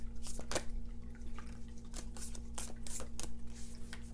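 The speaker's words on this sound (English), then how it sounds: "Very challenging to shuffle." Tarot cards riffle and snap in a series of short, crisp bursts at an uneven pace, standing out over a steady low electrical hum.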